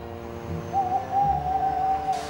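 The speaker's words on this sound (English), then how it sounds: "An owl, said Monty." An owl hooting in dark woods, a steady tonal call held over a second or more against a low rumbling background, alone and at moderate distance.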